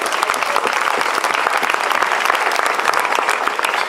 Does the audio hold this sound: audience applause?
yes